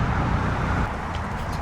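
Traffic on the A12 road roars beside a carp-fishing lake, a steady low rumble and hiss of passing vehicles heard from the bank, with no voices.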